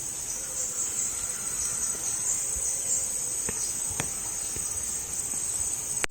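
Crickets and other insects in a natural land ecosystem chirp in a constant high, shrill drone, loud and unbroken throughout, with a few faint ticks and no voices.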